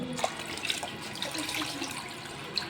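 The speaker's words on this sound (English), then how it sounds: "I started filling it with more water" Water poured into a container during a classroom buoyancy demonstration, a continuous splashing trickle with small drips, moderately loud and close, with no talk.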